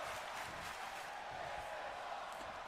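In the WWE 2K24 wrestling video game, an arena crowd roars and chants as a steady, faint wash of massed voices with no single voice standing out.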